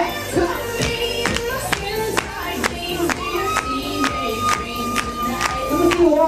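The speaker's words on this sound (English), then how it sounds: "Put your hands up. Just clap." Steady rhythmic clapping from a crowd at a bar mitzvah party, roughly two claps per second, with dance music and a DJ's amplified voice running underneath and occasional cheers.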